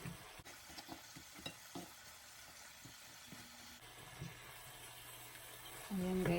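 Chicken wings and thighs are stirred in a pan of honey garlic sauce, a soft continuous sizzle with faint scraping and occasional clicks running throughout, quiet and close.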